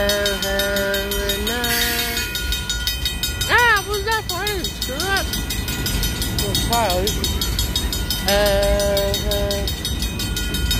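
Freight train on the Portland Western Railroad rumbling past with a BNSF locomotive, sustained rolling rail noise and a brief horn or whistle blast, while people talk nearby.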